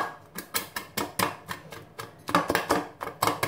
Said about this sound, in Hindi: इनको हम थोड़ा सा हमामदस्ते से कूट लेंगे